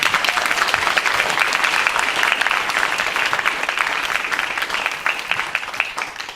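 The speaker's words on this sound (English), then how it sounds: "Round of applause." Steady, enthusiastic applause from an audience, dense clapping sustained throughout and tapering slightly at the end.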